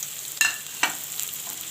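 Bay leaf, two dried chillies and cumin seeds frying in hot oil with onion for a masoor dal with jute leaves, a soft steady sizzle broken by two sharp crackling bursts as the spices hit the oil.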